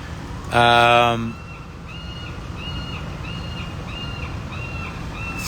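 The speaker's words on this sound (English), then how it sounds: "Oddly, the crows have followed me up here." Outdoors, a crow gives a single loud, harsh call, followed by a series of fainter, evenly spaced calls repeating in the distance over a steady background hiss.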